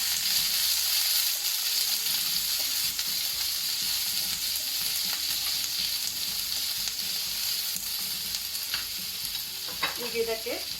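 Ivy gourd stir frying in oil over medium-low heat, a continuous bright sizzle with soft intermittent scraping and stirring, and a few louder spatters near the end.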